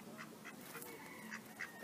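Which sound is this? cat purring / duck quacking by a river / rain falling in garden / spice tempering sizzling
duck quacking by a river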